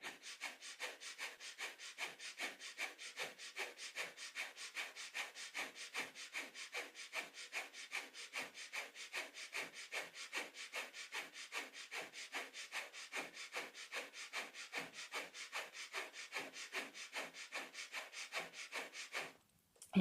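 Steady, rapid rhythmic breathing of kundalini yoga breath of fire, forceful nasal pumps repeating evenly for about twenty seconds, close and alone before stopping abruptly.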